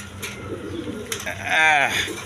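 A male pigeon gives a short throaty coo near the end of a brief, fairly close stretch, with soft rustling and faint chatter in the background.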